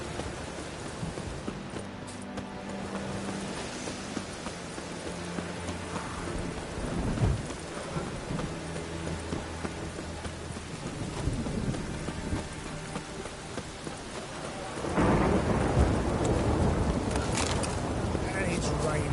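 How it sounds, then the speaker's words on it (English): Rain and thunder in a video game: steady rainfall patters on surfaces while low thunder rumbles roll through. The storm swells noticeably louder near the end, with a voice occasionally heard over it. "And it's raining again."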